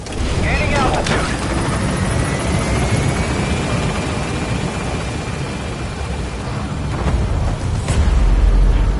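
Helicopter gaining altitude in the video game Metal Gear Solid 5, a loud, continuous rotor and engine roar with a rising whine that swells again near the end.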